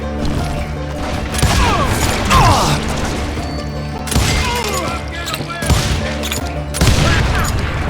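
Shooting in the Western game Call of Juarez Gunslinger, with crowds of hired gunmen firing: dense overlapping gunshots and clattering reloads in loud waves, mixed with game sounds and bursts of speech.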